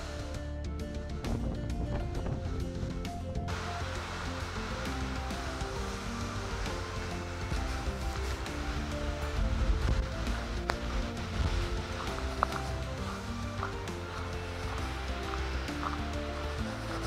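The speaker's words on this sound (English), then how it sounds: "waves on the lake." Wind-driven waves on a lake during a storm, a steady broadband wash of surf and gusting air that stays loud and continuous with no break throughout.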